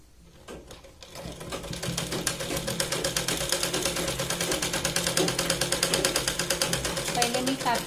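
Sewing machine stitching a big-size Katori blouse, a steady rapid needle clatter starting after a second and running loud and continuous to the end, with a faint voice underneath.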